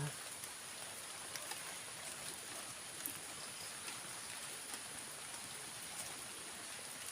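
Steady heavy rain pours down as a dense, even hiss, with faint scattered drops and no break across the stretch.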